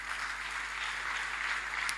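Congregation applauding for God at a church gathering: a soft, steady wash of many hands clapping, even and continuous for about two seconds.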